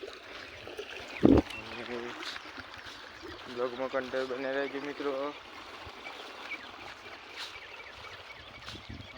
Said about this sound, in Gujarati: પાણી આવી ગયું મિત્રો,